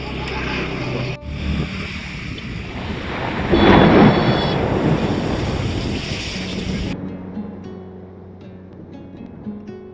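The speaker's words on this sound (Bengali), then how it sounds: "মাঝে মাঝেই আকাশে যেমন গর্জন হচ্ছিল তা একটু ভয় ধরাচ্ছিল" Deep thunder rumbles loudly through steady rain, swelling midway and then fading into softer rainfall.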